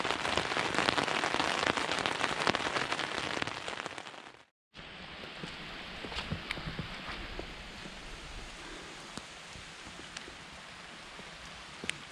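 Heavy rain pours onto a tent in woodland, a thick, steady hiss of drops that cuts out for a moment and then resumes slightly softer, punctuated by occasional louder drips, with no talking.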